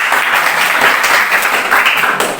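A classroom group finishing its presentation gets steady, loud applause from the audience, dense clapping sustained throughout.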